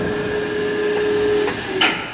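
A Tipton metal polishing machine runs an auto cycle, giving a steady mechanical hum with a sustained tone that drops out partway through, followed by a brief clunk and a rising whoosh near the end.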